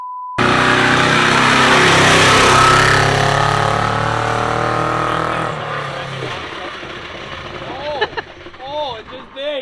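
A 1000-horsepower 2JZ engine fires up for the first time in a car, roaring loud and steady at close range for several seconds, then dying away into excited voices talking over it.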